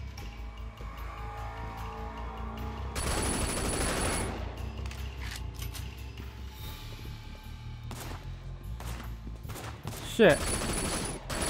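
Gunfire bursts from the open-world crime game Sleeping Dogs, with a sustained loud volley in the middle and scattered shots and impacts later, while someone talks and swears over the action.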